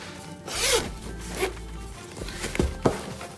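A zipper on an iPad Pro case pouch being pulled open and closed: a longer rasping zip followed by several short quick zips, close and fairly quiet.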